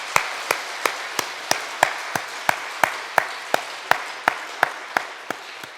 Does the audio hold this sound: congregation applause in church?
yes